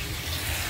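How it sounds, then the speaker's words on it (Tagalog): Water is poured into a pot of goat meat cooking in tomato sauce, a short, steady splashing pour up close. "dagdagan natin ng tubig"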